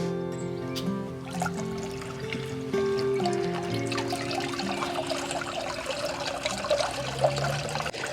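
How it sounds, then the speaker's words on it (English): A newly set-up garden fountain, not yet levelled, trickles water in a continuous splashing stream alongside steady tonal sounds in the background. "I thought we'd better test the fountain to make sure it actually works"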